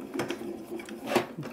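A die cutting machine runs a Sue Wilson craft die through a second pass, giving a steady mechanical whir with rhythmic clicks and a louder burst near the end, close and moderately loud.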